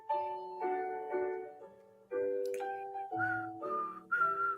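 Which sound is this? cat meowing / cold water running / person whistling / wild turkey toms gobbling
person whistling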